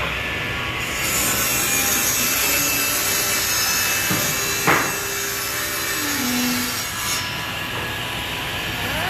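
Woodworking machinery runs in a furniture shop as wood is roughed in for chair backs, a loud continuous rasping hiss with brief squealing tones and a sharp knock midway.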